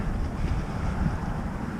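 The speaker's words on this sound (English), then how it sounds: "A little windy today." Wind buffeting the microphone while kayak fishing off St. Augustine, Florida, a continuous low rumbling roar with gusty surges and faint water sounds beneath, no voices.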